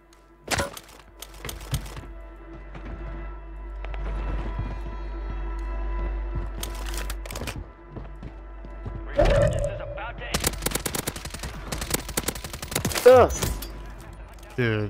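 Gunfire from Warzone 3 on the Urzikstan map crackles in scattered sharp cracks and short bursts, sparse at first and then clustering into rapid volleys near the end, over a low background hum.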